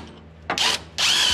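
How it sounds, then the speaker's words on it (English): Wrenches and tools working on power steering parts of a Fox Body Mustang during a 351 Windsor swap, two loud bursts of harsh mechanical ratcheting or drilling noise close by. "we're gonna grab a couple wrenches and we're gonna get this stuff off"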